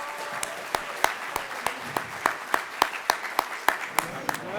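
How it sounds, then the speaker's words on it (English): Audience applauding presenters at the close of an evening business competition event, a steady dense wash of clapping with sharper individual claps standing out, close and fairly loud throughout. "How about another round of applause for all of them?"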